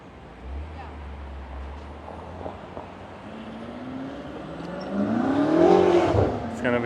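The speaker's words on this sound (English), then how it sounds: "You can see this is a major intersection with lots of cars and lots of lanes." Traffic flows through a major multi-lane intersection in Vancouver's Kerrisdale neighbourhood, with a low rumble of idling engines, then a car accelerating and passing close by, swelling loudly before fading.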